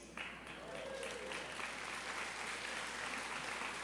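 Audience applause at a faith formation gathering, steady dense clapping from a crowd that holds at an even level for several seconds, moderately distant and unbroken.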